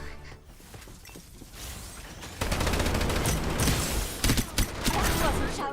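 Rapid gunfire from a video game shooter bursts in about midway, loud and dense with crackling impacts and mechanical clatter, following a quieter stretch of game ambience with some voice underneath.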